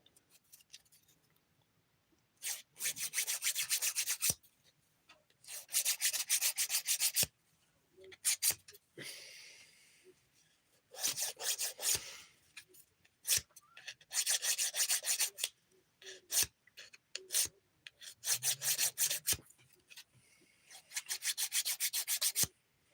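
A nail file rasps against a thumbnail in quick, scratchy back-and-forth bursts. The strokes come in several separate runs with short pauses between them, close up and alone.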